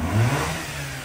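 A Mazda RX-8 rotary engine, previously flooded with low compression, runs just after starting, giving a steady, loud, close mid-pitched drone for a brief moment with no talk.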